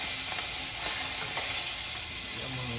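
Chicken gizzards fry in very hot grease with a loud, steady sizzle and constant bubbling crackle, close up and without talk.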